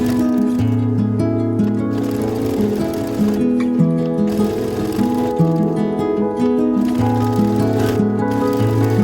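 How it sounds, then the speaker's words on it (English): A sewing machine stitches upcycled denim pieces for a tote bag, a loud, close, continuous mechanical whir with a steady rhythm, slowing and restarting a couple of times. "So now I am going to sew these on"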